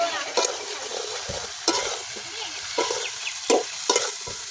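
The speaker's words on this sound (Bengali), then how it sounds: "মশলাটা একটু কষিয়ে নেব" Spice masala with fish-roe fritters stirred and fried in hot oil in a pan, a steady sizzle broken by several sharp scraping strokes of the spoon at an uneven rhythm, close and with no voices.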